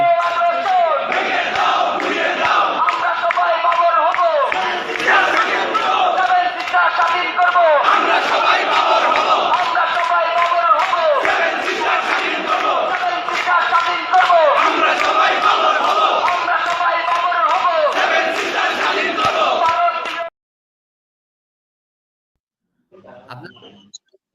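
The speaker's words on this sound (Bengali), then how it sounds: "ঢাকা বিশ্ববিদ্যালয়ের শিক্ষার্থীরা তারা কি মিছিল দিয়েছিল সেটা একটু আপনাদেরকে দেখাবো" A large crowd of Dhaka University students chants slogans in unison during a protest march, loud rhythmic shouting that continues steadily before cutting to near silence with a brief faint sound at the end.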